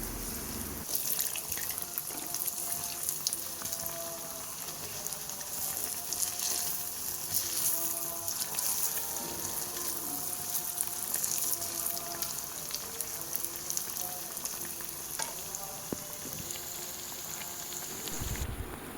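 Sweet urad dal vadas fry steadily in hot oil, a continuous bright sizzle and bubbling that runs the whole time at a moderate, even level with no talking.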